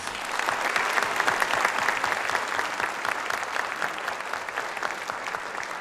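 Steady, full applause from a concert audience at a wind symphony performance for student trumpet players, sustained at an even level for about six seconds.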